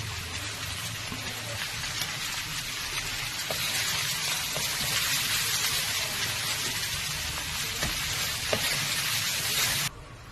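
Shredded cabbage and carrot fry in a hot pan for a restaurant-style dish, giving a loud, continuous crackling sizzle with scraping stir strokes throughout, cut off abruptly near the end.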